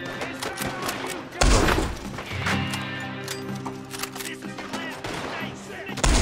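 Gunfire in Red Dead Redemption 2, with loud booming shots and a thudding burst over game ambience and background noise, while a player talks over it.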